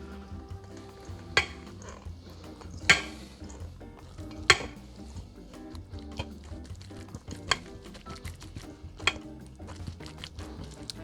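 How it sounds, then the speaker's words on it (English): A pimento cheese mixture with onion powder, salt and pepper being stirred in a bowl, soft steady mixing with several sharp clinks of a utensil against the bowl at irregular intervals. "and now we stir"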